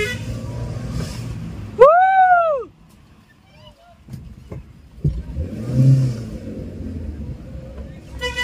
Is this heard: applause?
no